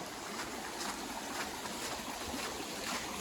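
Creek water flowing steadily along a trail stream in the Appalachians, a continuous broadband rush and trickle heard close and alone with no talking.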